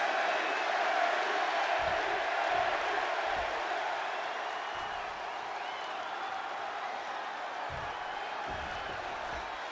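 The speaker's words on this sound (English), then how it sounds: "just listen to this crowd here in Chicago" A large wrestling arena crowd in the video game WWE 2K26 roars steadily throughout, a dense wash of cheering and applause with occasional low thumps underneath.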